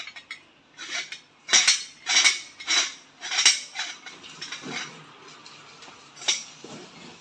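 Antique tin-coated metal vessels, including a milk can, clanking and clinking as they are handled, a series of sharp metallic knocks and rattles at an uneven rhythm, close and clear.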